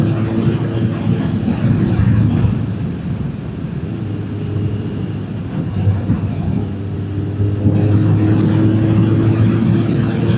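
A motorcycle riding Wiltshire country roads in the Cotswolds toward Kemble, its engine droning loud and close with wind rush, the throttle rising and easing over the run.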